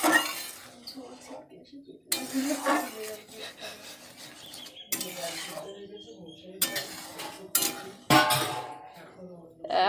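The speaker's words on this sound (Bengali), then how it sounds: "ডালটা একটু ঘেঁটে দিচ্ছি" A ladle scrapes and clinks against a metal pot while boiled dal is stirred, with intermittent scraping bursts and knocks broken by pauses, under someone talking throughout.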